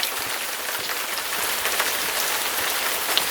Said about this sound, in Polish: Dalej pada i w dodatku znowu zrobiło się ciemno.